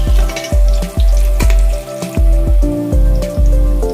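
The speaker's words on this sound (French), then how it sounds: "On va rajouter nos poireaux dans la casserole." Leeks sizzle and crackle in a hot saucepan with browned onions, with a rhythmic series of clanks from stirring roughly twice a second; no one speaks.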